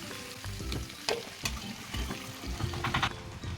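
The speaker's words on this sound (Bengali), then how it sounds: "এবার আমি নুন হলুদ মাখানো আলুগুলো ফ্রাই করে নেব।" Potatoes coated in salt and turmeric fry in plenty of hot oil in a pan, right after a batch of jackfruit. A close, continuous sizzle carries crackling pops and a few louder spits, with no talking.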